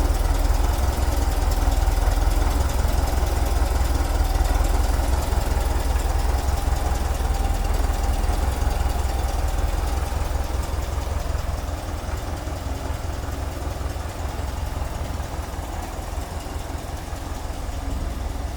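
A 1975 Volkswagen Type 2 pop-up camper bus engine idles steadily and smoothly, a constant close low rumble with a slight drop in level partway through and no talking.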